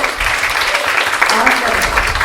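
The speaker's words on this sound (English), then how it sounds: "So give me a round of applause." Audience at a live career event applauding, a dense, loud burst of clapping from a crowd indoors that continues throughout, with a voice briefly audible beneath it.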